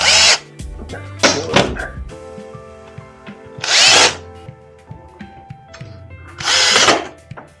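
A power drill set to drill mode drives screws into wood during a welder repair, giving several loud whirring bursts of a second or so with clunks and handling knocks between them, close up.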